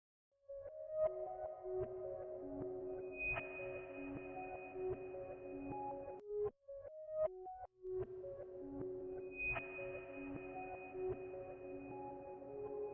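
An Omnisphere 2 synth electric piano arpeggio played in reverse, each note swelling in and cutting off abruptly, looping twice with a short gap between.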